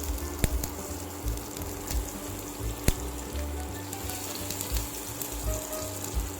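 Curry leaves drop into hot oil with popped mustard seeds on a lowered flame, producing a dense, steady crackling sizzle with a couple of sharp pops standing out, close and continuous, no voices present.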